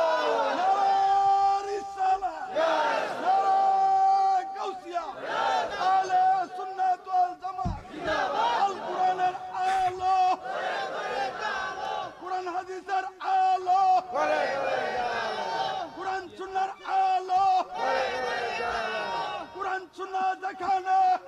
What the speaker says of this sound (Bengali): জোরে একটা তাকবীর হবে